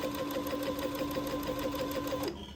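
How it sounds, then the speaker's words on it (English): A sewing machine runs steadily as it stitches a straight seam in fabric near entre-deux lace holes, a close, even, rapid whirring chatter that stops abruptly near the end. "I'm sewing a straight line right next to the entre-deux holes, taking my pins out as I come to them."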